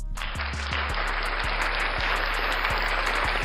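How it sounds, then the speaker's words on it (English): A studio audience applauds steadily, with a dense wash of clapping holding at an even level throughout over a low electrical hum. "One more time, applause."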